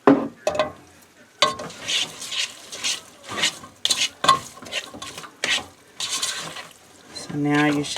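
Buttery, salted pasta being stirred in a pan, with irregular scraping and clinking bursts of a utensil against the pan and a light sizzle, close up, with a voice speaking between the strokes.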